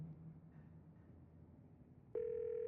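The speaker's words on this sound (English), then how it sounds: "You pull out your phone and call." Phone call tone in the horror visual novel game Scarlet Hollow: a steady electronic ringback tone starts abruptly near the end and holds, after a quiet stretch of low ambient hum.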